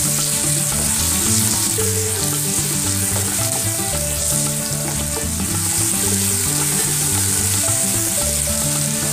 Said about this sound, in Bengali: সেই পেঁয়াজ ধনে ওটা দিয়ে এবার এটাকে ভালো করে ভেজে নেব।